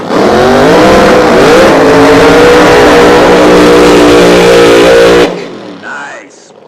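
A nitro drag racing car does a burnout at Toronto Motorsports Park's Nitro Nationals, a thunderous, rough engine roar held at full power for about five seconds before cutting off abruptly, leaving faint crowd noise and a voice.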